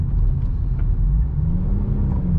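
A car's engine rumbles low and steady from inside the cabin while driving, with a slight rise in pitch as the gear shifts, and no voices present.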